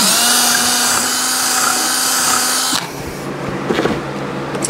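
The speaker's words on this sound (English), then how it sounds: "I'm gonna drill that through." A high-pitched power drill whines steadily for a few seconds drilling through a plastic crate, then stops abruptly, leaving quieter handling noise and faint clicks.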